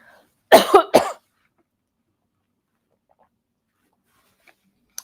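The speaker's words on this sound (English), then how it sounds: "I need to figure out a way to cover up my microphone when I cough" Two sharp, loud coughs close to the microphone, then near silence.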